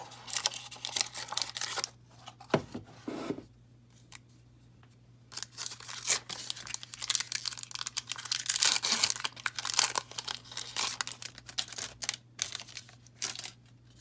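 A Magic: The Gathering Rivals of Ixalan booster pack wrapper is torn open, with crisp foil crinkling, ripping and rustling in uneven bursts separated by brief quiet gaps, all close and without talk.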